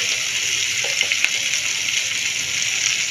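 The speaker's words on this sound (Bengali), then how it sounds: "পটল ভাজার তেলের মধ্যে আমি এখানে পেঁয়াজ দিয়ে দিচ্ছি" Onion and green chili fry in the oil left from frying pointed gourd, a steady loud sizzle with a few faint clinks and stirring sounds, no voices.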